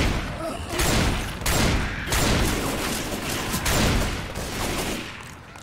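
Dense gunfire rattles in bursts during a Left 4 Dead 2 zombie shooter round in the alleys, loud and near, with faint voices mixed in beneath the shots.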